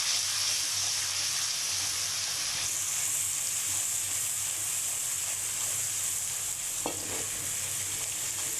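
Ginger garlic paste fries in oil in a karahi, giving a loud, dense, continuous sizzle and hiss that stays steady throughout.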